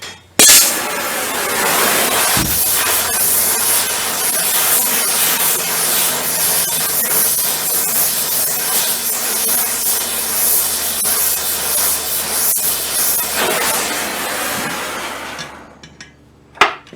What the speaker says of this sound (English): Work the rivet joint for a little bit while it's hot and quench the tongs.